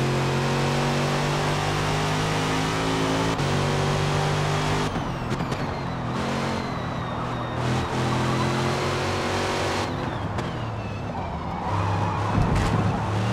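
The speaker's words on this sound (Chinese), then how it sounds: "Viper 出弯打滑了，我们可以提前超车。" Dodge Viper in the Forza racing game screeching as its tires skid out of a corner, with engine revving and gear changes over continuous loud tire squeal and sharp transient bursts.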